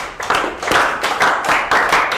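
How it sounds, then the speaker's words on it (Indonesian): Group clapping together in a class session on managing emotions, loud rhythmic claps in a steady repeating beat, close by and without talk. "tepuk tangan buat kita semua"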